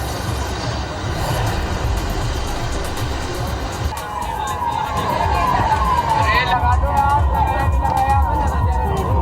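An emergency vehicle siren wails at a fire scene where the fire brigade is working. It sounds over a dense, noisy street background and grows clearer in the second half, with a voice speaking throughout.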